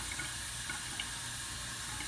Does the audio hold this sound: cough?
no